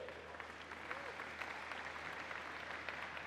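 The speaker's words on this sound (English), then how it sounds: "A round of applause." Soft, somewhat distant applause rolls through the hall at the DevFest Lagos 2019 opening session, where the audience claps for the commissioner with a low, steady patter of many hands over a few seconds.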